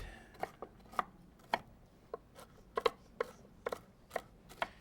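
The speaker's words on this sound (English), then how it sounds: "All right, I'm going to chop these." Nuts for a topping being chopped with a knife on a board, about a dozen crisp, uneven taps close by, alone without talk.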